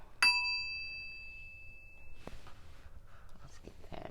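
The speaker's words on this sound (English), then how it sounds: "Let's ring this bell." A single bell is struck once, ringing out with a bright, clear tone that decays slowly over a couple of seconds, followed by faint handling clatter and soft background sounds.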